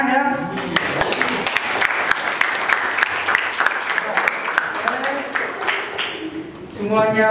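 A class of students in a history lesson bursts into applause, dense clapping from a nearby group lasting several seconds, with voices at the start and end.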